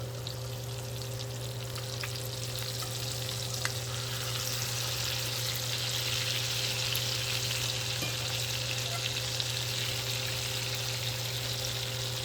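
Blackened fish frying in a hot pan, a steady dense sizzle and crackle that holds at an even level throughout, with a faint background hum.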